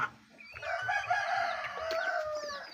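Sick chickens with colds cluck and call nearby, with a rooster crowing through the clip and soft rustling underneath.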